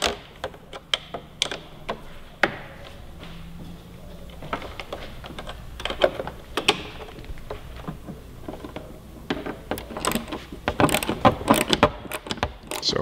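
Motorcycle mirror eliminator bolts on a 2017-2018 Yamaha R6 being snugged with a T-handle and wrench, close irregular metallic clicks and ratcheting taps coming in quick clusters with short gaps.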